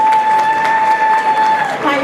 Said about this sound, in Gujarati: स्पेशली मयूर भाई માટે જોરદાર તાળીઓ